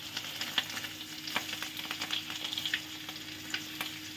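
Garlic and green chillies frying in a pan, a dense crackling sizzle with frequent spattering pops and stirring clatter, close and steady, with no talking.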